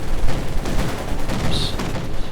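Dense battlefield gunfire from a Company of Heroes 2 match, with rapid overlapping bursts suited to a machine gun firing from inside a house, mixed with further shots and a brief higher chirp.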